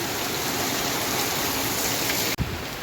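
Heavy unseasonal rain pours in a loud, steady broadband hiss that ends with a brief dropout near the end.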